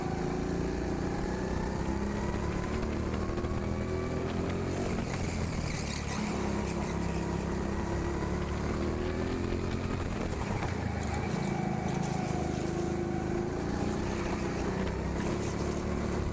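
Petrol go-kart lapping an indoor track at TeamSport Sheffield, its engine droning continuously with rising and falling pitch as it brakes and accelerates through corners, loud and close throughout.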